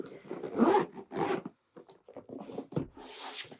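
A zip-around pen case pouch is unzipped in several quick rasping pulls with short pauses between them, crisp and close.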